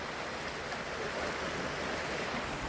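A short stretch of river near Carrancas, Minas Gerais, flows with a loud, steady, broadband rushing wash that never pauses, close by and with no voices.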